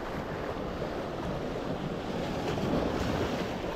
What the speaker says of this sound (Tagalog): Ating lakas ng alon.